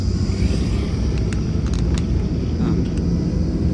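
A car engine rumbles steadily from inside the cabin while driving, with the low drone continuing through a gear change into second; a few faint clicks and knocks sit over the constant road and engine noise.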